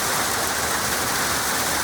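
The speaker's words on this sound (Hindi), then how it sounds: "सिर्फ बारिश नहीं, साथ में बर्फ भी गिर रहा है" Heavy rain mixed with falling snow pours down in Meghalaya as a steady, loud, unbroken hiss with no talking.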